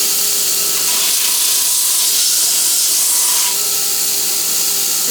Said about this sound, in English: We do that on the big drum sander.